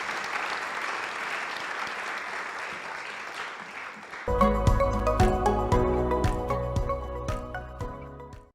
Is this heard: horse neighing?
no